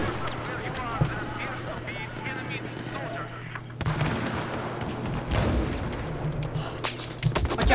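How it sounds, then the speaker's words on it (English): Battlefield 4 Rush match with grenade launcher blasts and scattered gunfire heard as intermittent booms and cracks beneath an engine-like drone, mostly under players chatting. "Grenade launcher."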